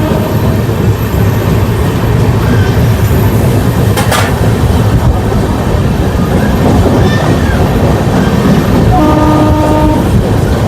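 Riding aboard the Kriya Yoga Express from Howrah toward Ranchi as it runs through Sankrail station: loud, constant wheel rumble and clatter, a brief horn blast late on, and faint voices underneath.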